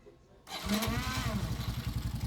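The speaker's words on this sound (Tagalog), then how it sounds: "Buksan natin yung motor. Okay, start natin." A motorcycle being worked on for a fault is started: a brief crank, then the engine catches and settles into a steady, rapid, pulsing idle, loud and close.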